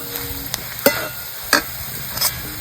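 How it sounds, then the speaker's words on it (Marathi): Onion being sautéed with homemade onion-garlic masala in a pan, a soft steady sizzle punctuated by several sharp scraping stirs of a spoon against the metal, close and without talk. "म्हणून आपण ह्या कांद्यातच चांगला असा परतून घ्यायचा."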